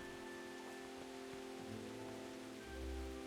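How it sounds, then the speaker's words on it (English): Soft, steady rain in the video game Kingdom Come: Deliverance patters with a constant hiss under low tonal hums and background game sounds, no voices. "Oh, it's raining, isn't it?"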